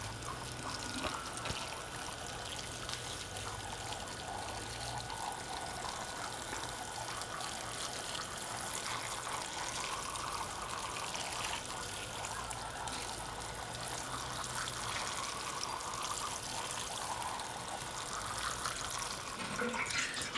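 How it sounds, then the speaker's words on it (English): Water trickles and pours gently and steadily onto potato seedlings in a 50-cell tray, a soft continuous flow with no pauses, quiet and nearby. "we'll just water them in gently"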